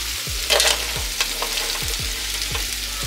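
Potatoes hit a hot pan and fry, a steady close sizzle with scraping stirs and clinks of a utensil against the pan at regular intervals.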